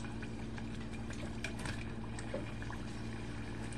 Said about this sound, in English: Now I'm going to drop them again, and mind you, this is on medium heat after your oil has gotten hot.